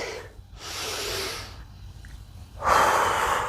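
Strong, breathy exhales during a yoga breathing exercise, heard as three long rushing breaths close to the mic, the last one loudest, with short quiet pauses between them.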